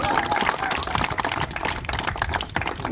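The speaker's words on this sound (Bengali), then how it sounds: "আরো একটি জোরে করতালি।" Audience applause at an under-12 cricket carnival in Jhenaidah, Bangladesh, a dense, steady patter of many hands clapping close by and continuing throughout.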